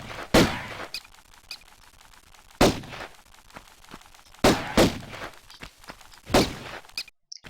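Pistol shots fired at bats in Tomb Raider: four sharp, well-spaced cracks over a quiet backdrop of small thuds and scuffs, fairly close and without speech.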